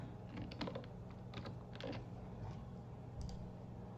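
Soft clicks of a computer keyboard tapped a few times in bursts, faint against a low room hum, as a shortcut is entered during an Adobe Illustrator session; no one speaks.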